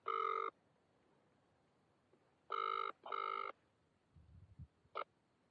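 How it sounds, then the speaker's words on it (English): A phone ringback tone sounds while calling someone from a deserted island campsite: three clear electronic ring bursts, the last two back to back, followed by faint low rustling and a short beep at the end. "I'll just give him a ring, see if we can get hold of him."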